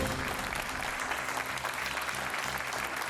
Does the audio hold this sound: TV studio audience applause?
yes